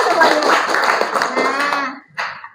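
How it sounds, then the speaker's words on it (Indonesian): A school class claps together in a classroom, a dense burst of hands over children's voices that stops abruptly and then briefly resumes. "Oke, tepuk tangan buat kita semuanya."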